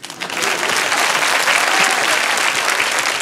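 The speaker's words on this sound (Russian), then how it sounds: "Очень бы хотелось, чтобы эти аплодисменты были еще и в конце пятой минуты" A studio audience applauds at a televised stand-up comedy contest, a loud, dense, steady ovation that swells in within the first moment and holds for about three seconds with no voices over it.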